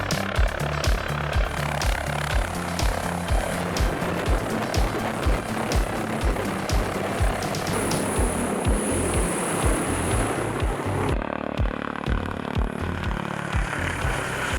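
A mountain rescue helicopter drones on continuously, its rotor thumping in a rapid, steady pulse, loud and close with a whining tone above, easing slightly near the end.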